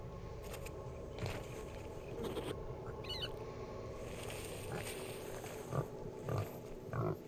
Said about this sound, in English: It's the pig. Kill it.